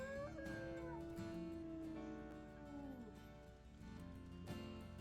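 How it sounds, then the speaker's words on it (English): A wolf howls in the video game WolfQuest: long, wavering, gliding howls that rise and fall, moderately close and sounding alone. "despite hearing a wolf howling in this direction"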